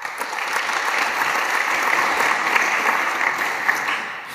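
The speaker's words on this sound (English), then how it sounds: "give a round of applause for Ralf and enjoy his talk" Steady audience applause for a speaker introduced at a Python and R statistics talk, a full crowd clapping continuously and fairly loudly throughout, with no talking over it.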